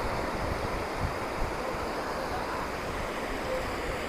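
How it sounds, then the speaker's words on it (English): Sea waves breaking against rocks below coastal cliffs at Apsarakonda, a continuous broadband roar of surf mixed with wind buffeting the microphone, steady and moderately distant. "So the waves crashing on those rocks looks really brilliant."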